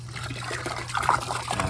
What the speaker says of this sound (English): On the actual pump, there's a grate to help restrict water flow.